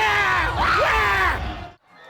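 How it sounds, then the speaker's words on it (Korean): A large outdoor crowd at Gwanghwamun Square roars and screams in celebration of a late winning goal in a football match, a loud sustained swell of many voices that cuts off abruptly. "후반전 막바지 역전골이 터지자 광화문 광장은 환호성으로 뒤덮였습니다."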